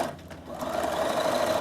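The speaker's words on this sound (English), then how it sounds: "I'm pretty much only doing straight sew all day today." A sewing machine runs steadily through a straight stitch, a continuous close mechanical whir that holds level for nearly two seconds once it gets going, with no talking.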